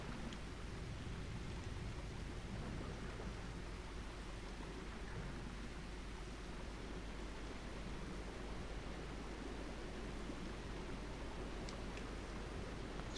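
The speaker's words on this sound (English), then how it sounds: "Wait, it's raining down here." Steady, hissing spray of water falling from above in an underground area of the video game Demon's Souls, a continuous rain-like wash with no breaks.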